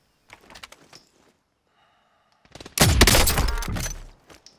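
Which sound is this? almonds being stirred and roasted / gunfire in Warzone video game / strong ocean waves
gunfire in Warzone video game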